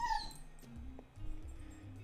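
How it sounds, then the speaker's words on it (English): A puppy whimpers and yips indoors in short, high cries, fairly close but modest in level, over a low background hum. "I need to sort the puppy out."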